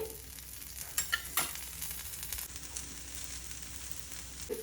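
Ghee or oil hits a multigrain dosa on a hot pan, giving a steady close sizzle with a few sharper crackles and light scraping noises throughout, no voices.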